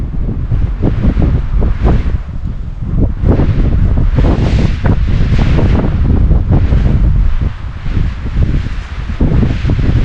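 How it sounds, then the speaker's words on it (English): Wind blows through saguaro cactus needles in the desert of Saguaro National Park, a loud, continuous rushing hiss that swells and eases in gusts close to the microphone. "it makes when the wind blows through the needles."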